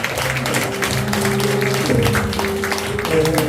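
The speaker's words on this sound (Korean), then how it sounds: "박수 한번 쳐주시기 바랍니다" An audience at a presentation event claps in a dense, steady round, with a low sustained hum or tone running underneath the applause throughout.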